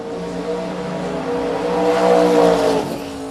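A pair of drag racing cars at a drag strip during Dragweek, a loud sustained engine roar that swells toward the middle and then eases, heard alone.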